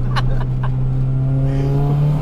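Subaru Impreza STI tuned to 500 horsepower with an external wastegate, accelerating hard: a loud, steady engine drone with a rising pitch, close and continuous, with faint voices in the background.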